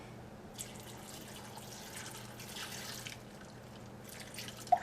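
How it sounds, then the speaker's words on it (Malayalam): Water poured into a cooking pot of raw green plantain pieces with salt, for boiling before a Kerala-style stir-fry; a soft, fairly faint splashing pour runs for a few seconds, then fades into a quiet kitchen. "വെള്ളവും ചേർക്കാം"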